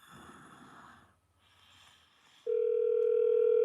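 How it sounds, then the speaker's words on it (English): Outgoing phone call placed through an Alexa smart speaker, with faint breathing and rustle before a steady electronic ringing tone starts and holds loud and unbroken to the end. "Calling Dave Sundays Mobile"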